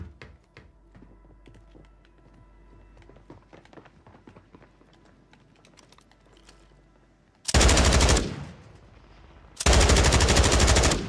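Automatic rifle fire in Warzone comes as two long, very loud sustained bursts near the end, after a stretch of soft clicks and footsteps in the game.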